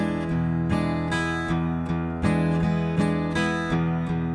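An acoustic guitar plays blues in straight eighth notes, its evenly spaced strums ringing out in a steady, bright rhythm, close and clear with no talking.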